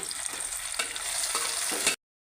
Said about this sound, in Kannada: ಟಮಾಟಿ ಕೂಡ ಹಾಕೊಳ್ತಾ ಇದ್ದೀನಿ